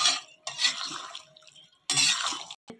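A spoon scrapes and clinks against a cooking pan while food is stirred, coming in two close, moderately loud bursts with a short quiet gap between them.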